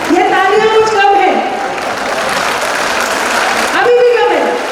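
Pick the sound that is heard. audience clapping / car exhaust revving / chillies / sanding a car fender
audience clapping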